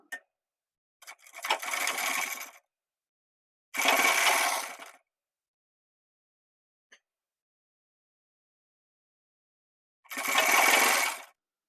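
A sewing machine sews the folded margin of a men's shirt in three short separate bursts of fast stitching, close and fairly loud, with near silence and a faint click between them.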